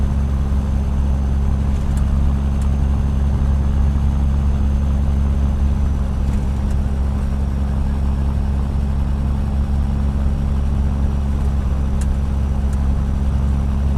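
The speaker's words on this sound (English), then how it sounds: "You want me to knock this engine sound down a little bit as well" A Peterbilt 389 truck engine idles in a trucking simulation game, a steady low, rumbling drone holding even and continuous throughout with no change in revs.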